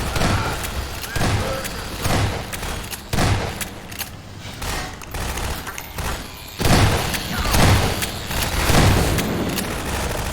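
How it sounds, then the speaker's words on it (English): Turrets blowing up in Half-Life 2: Episode Two, a series of loud booming blasts and thuds arriving in irregular bursts, with heavier explosions clustering near the end. "Oh, I forgot that all the turrets blow up after this part."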